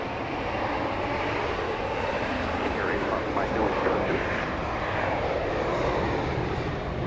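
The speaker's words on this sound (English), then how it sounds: "One of your bigger biz jets here." Large business jet taxiing at Dallas Love Field, its engine a steady, broad roar that holds even and fairly close throughout with no breaks.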